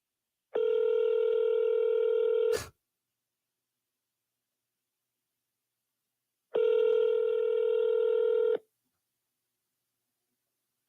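Two long bursts of stacked electronic telephone tones, each about two seconds, separated by silence while a call is placed back to a for-sale-by-owner seller; no talking.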